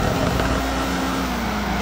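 A heavily modified stock engine on a drift car in the FR Legends game howls at full throttle, a steady, loud, high-revving drone with layered harmonics that holds for the whole stretch, with no talk over it.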